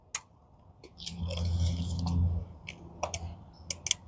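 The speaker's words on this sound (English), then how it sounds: "Just give it a couple clicks." A plastic zip tie is ratcheted tight with a quick series of small dry clicks, close and quiet, with some handling rustle around them.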